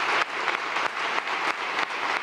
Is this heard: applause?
yes